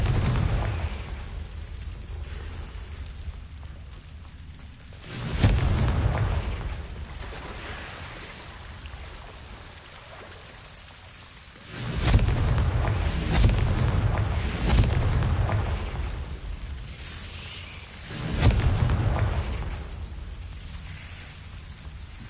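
Three heavy booming blasts from the Confringo spell in the game Hogwarts Legacy, spaced several seconds apart over a low rumbling backdrop, each a loud broadband burst that trails off.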